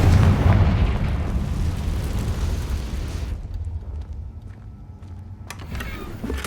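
A Confringo fire spell blast in Hogwarts Legacy lands as a loud, broad boom that rolls and rumbles for several seconds, then thins into a lower, lingering crackle and rumble with a few small pops near the end.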